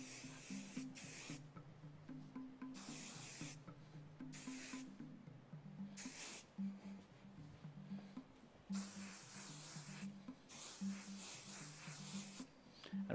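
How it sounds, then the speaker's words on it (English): Hairspray hisses close by from an aerosol can in several long bursts separated by short pauses, with soft rubbing sounds on hair between them. "take your can of trusty hairspray and lightly spray"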